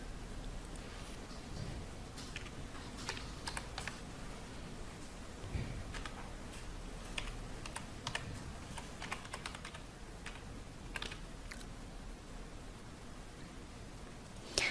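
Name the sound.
typing an email address on a computer keyboard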